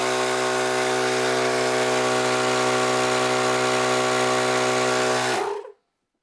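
A Thumper Max II 12V twin-cylinder air compressor running, a loud steady droning hum with strong harmonics that stops abruptly near the end, leaving silence.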